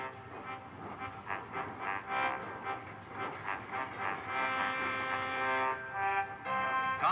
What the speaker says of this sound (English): Thomas puffed away.